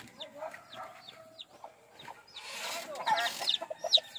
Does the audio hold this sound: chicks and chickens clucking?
yes